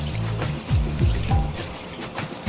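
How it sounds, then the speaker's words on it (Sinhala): Water poured into a bowl of seasoned venison, a short close trickle and splash with gurgling, uneven bursts over a couple of seconds. "මේක සීසනින් කරගත්තු බෝල් එකකට වතුර ටිකක් දාගෙන"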